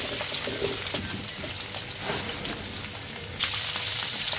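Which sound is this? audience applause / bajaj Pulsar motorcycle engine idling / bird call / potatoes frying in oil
potatoes frying in oil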